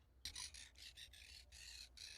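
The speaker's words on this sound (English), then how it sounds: "Bird's laughing at him." A bird in the TV drama Sons of Anarchy squawks in a rapid series of harsh, raspy bursts, close and fairly quiet, with short gaps between the calls.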